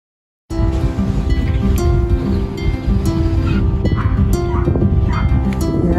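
Small dog yapping and barking nearly continuously, a close, busy string of high yips and whimpers over steady background noise.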